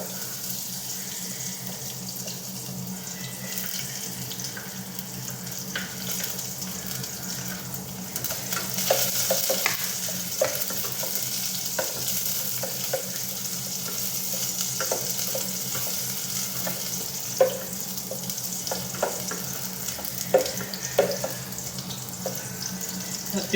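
Garlic sizzles in a pan with a steady frying hiss, broken by light scraping and clinking as it is stirred, with a faint background hum.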